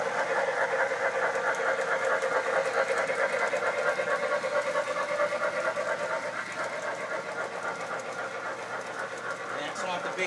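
A small model steam engine runs with a steady rhythmic chugging and mechanical rattle, held at an even level throughout, with people talking close by.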